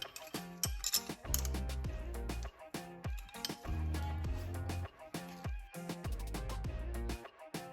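Ratchet tightening bolts during a wheel bearing replacement on an Acura NSX: bursts of quick, close mechanical clicking, repeated in several runs with brief pauses between strokes.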